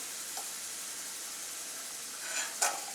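Potato french fries frying in hot oil give off a continuous soft, even sizzle and hiss, with a brief louder crackle near the end.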